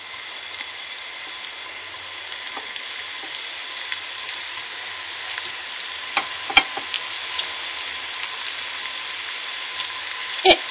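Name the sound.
meatballs frying in oil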